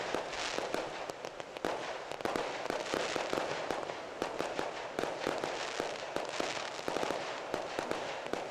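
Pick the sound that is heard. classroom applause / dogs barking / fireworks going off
fireworks going off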